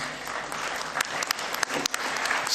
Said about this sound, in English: Can we clap hands for Madame Kanizar?